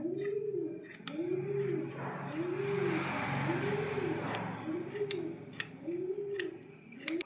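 Scissors snip through an old cotton t-shirt in a string of sharp, close cuts at an uneven rhythm, over a soft repeating tonal cooing sound in the background.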